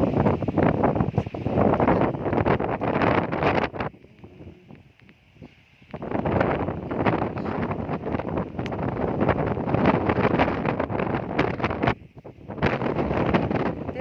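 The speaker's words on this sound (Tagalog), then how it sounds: "Grabing hangin, no?" Strong wind roars and buffets the microphone in long gusts, briefly dropping to a quieter lull before surging back.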